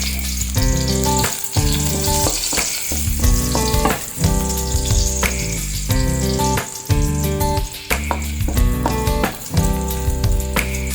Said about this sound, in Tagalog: Ilagay na tayo ng mantika, ayan. Ayan na natin yung bawang, 4 na pirasong butil.